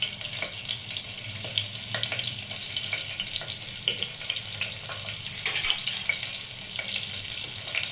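Cumin seeds sizzle in hot oil for a tempering in a pan already holding garlic and green chillies, a steady crackling hiss with scattered pops and a brief louder burst near the end.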